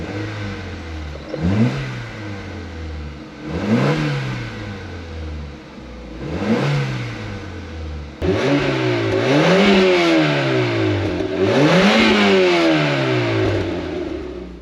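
A Ford Fiesta engine runs through repeated revs, each rise and fall of the motor clearly audible, growing louder and busier partway through, with no talk over it.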